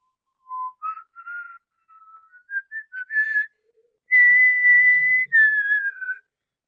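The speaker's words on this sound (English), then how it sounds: "I'll stop whistling." Someone whistles a short, wandering tune of clear single notes, pausing between phrases, then holding a few longer sliding tones; no talking.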